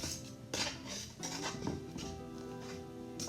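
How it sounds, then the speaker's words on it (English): A spoon stirs melting birds' nests in a pot on a stovetop over medium heat, scraping and clinking against the metal in a steady, close-up rhythm with no talking. "I have been standing here stirring them pretty much constantly"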